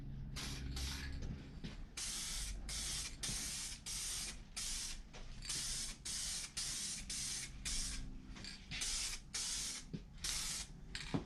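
Aerosol spray paint hisses in a series of short, close bursts as a light fog coat goes onto a Road Warrior motorcycle fairing for a 2018 Harley-Davidson Sport Glide FLSB, with brief pauses between passes.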